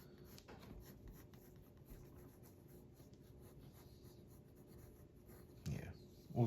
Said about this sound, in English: today I'm just going to be doing the process of penciling